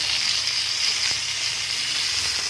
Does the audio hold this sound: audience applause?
no